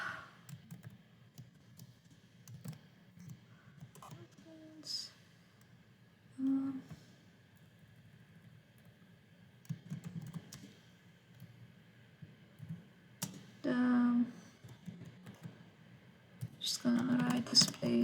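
A computer keyboard gets quiet, scattered typing in short bursts of soft clicks with pauses between them, and a low voice is faintly present at times.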